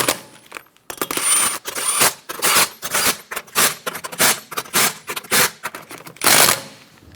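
Rapid bursts of an impact wrench tightening wheel lug nuts on a 2012-2020 Chevrolet Sonic during a front lower control arm replacement, loud and close, with repeated short rattling hits separated by brief pauses and a final longer burst.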